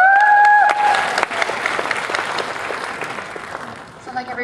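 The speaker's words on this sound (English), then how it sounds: "Can we give another round of applause for Miss Gemma?" Applause at a nursing graduation ceremony, a loud burst of clapping from the audience with a whoop at the start, tapering off gradually as voices return.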